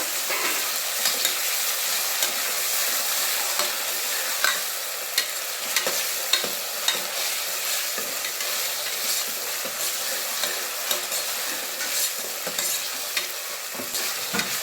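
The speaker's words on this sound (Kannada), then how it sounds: "ಶುಂಠಿ ಬೆಳ್ಳುಳ್ಳಿ ಪೇಸ್ಟು ಒಂದು ಸ್ಪೂನ್ ಆಗುವಷ್ಟು ಹಾಕಿ ಮಿಕ್ಸ್ ಮಾಡಿಬಿಡೋಣ" Ginger garlic paste and onion fry in oil as they are stirred, giving a continuous loud close sizzle broken by frequent spoon scrapes and taps against the pan, and no one talks.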